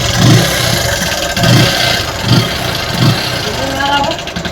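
A Bajaj Pulsar 135 motorcycle engine with an abnormal sound runs up close, throbbing in four evenly spaced low pulses over a constant mechanical whir.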